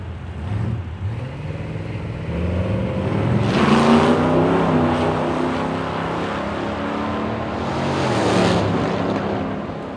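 Two drag cars, a Chevrolet Nomad and a Plymouth, race down the strip, their engines roaring loudly and rising in a sustained rumble that swells twice as they pass.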